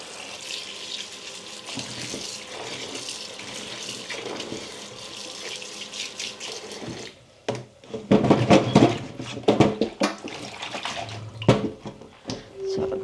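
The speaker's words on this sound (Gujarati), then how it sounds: "એક વખત ગરમ પાણી નાખી દઈએ અને થોડું કેવું મીઠું નાખી દઈએ" Hot water pours steadily from a tap, then splashes and gurgles more loudly over cauliflower florets in a container, with a few light clunks.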